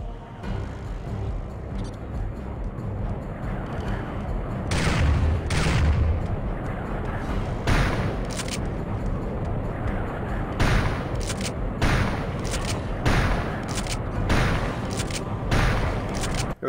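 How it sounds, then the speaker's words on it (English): A plasma gun fires in Turok 2: Seeds of Evil, a run of loud, sharp bursts that come faster in the second half, over a steady rumbling game ambience. "I have a plasma gun, use it."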